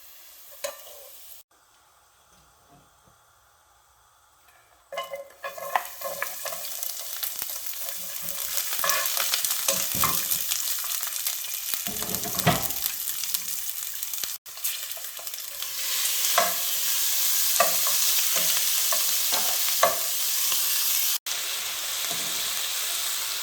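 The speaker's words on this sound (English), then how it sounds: "Going to fry the garlic until it turns gold or brown." Garlic sizzles and crackles loudly as it fries in a pan for Thai pork garlic, with steady hissing broken by stirring scrapes and brief pauses, no voices present.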